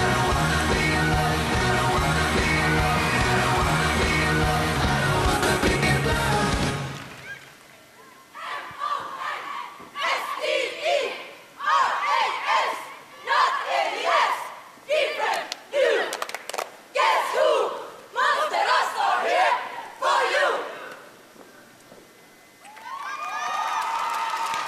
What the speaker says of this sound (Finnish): Siinä oli huuto laitettu tuon esityksen keskelle.